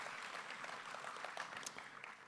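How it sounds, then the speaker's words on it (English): Faint, distant clapping from people at a Salinas Valley sports hall of fame event forms a soft, diffuse patter in a quiet room. "So somebody's clapping."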